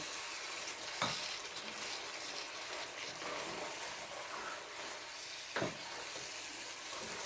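Pasta being stirred into a rasta pasta sauce in a pan: a soft continuous sizzle with quiet scraping from stirring and two brief utensil knocks against the pan.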